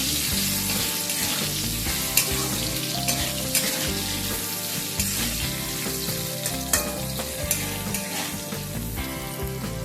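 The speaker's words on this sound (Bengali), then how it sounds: "আলুটাকে একটু লালচে করে ভেজে নেব" Cut potatoes with whole spices and a little salt fry in a pan, a steady, dense sizzle with a few sharper crackles and stirring scrapes, close and loud throughout without any talking.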